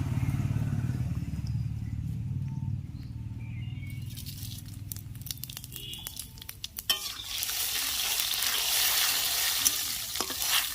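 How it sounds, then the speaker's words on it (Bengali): Dry red chillies and five-spice seeds tempering in a little white oil, a low hum giving way to sharp crackling and spluttering that swells into a loud, steady sizzle with some utensil clatter. "এবার শুকনো লঙ্কা আর 5 ফোড়ন দিচ্ছি।"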